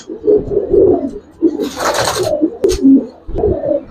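Old-breed Giribaz pigeons coo in repeated low, throaty phrases close by, with a brief burst of fluttering or rustling in the middle and no speech.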